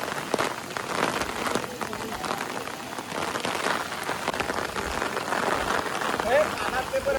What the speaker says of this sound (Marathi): 1 वाजला आणि पाऊस जास्तच सुरू आहे